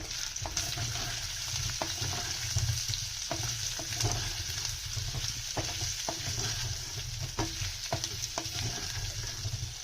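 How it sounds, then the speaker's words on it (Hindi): A spoon slowly stirs potatoes frying in a pan, a steady close sizzle with regular scraping strokes and soft knocks against the pan throughout, no voices. "अब हम स्लोली इस तरीके से चम्मच घुमाते रहेंगे।"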